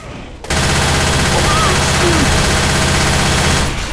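Rapid, sustained automatic gunfire from players shooting one another in Left 4 Dead 2, loud and dense for several seconds after a brief quiet start, with game effects layered over it.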